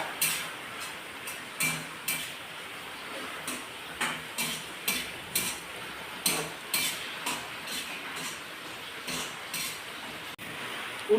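Tomato, ginger, garlic, chilli and curry leaves being stirred in a pan for prawn biryani, with a steady series of sharp spoon clinks and scrapes about twice per second over a light sizzle, close.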